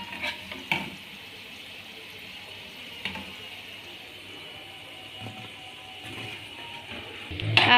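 Fried shakarpara being stirred into sugar syrup in a pan, soft wet sloshing and a few clinks of a spoon at close range, with a louder clatter at the end.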